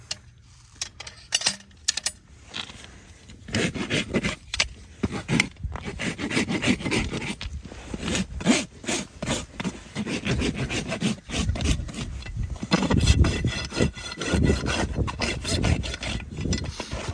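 A farrier works a horse hoof with a rasp during a field trim. Repeated scraping strokes sound close and fairly loud, falling into an uneven rhythm with brief pauses between passes.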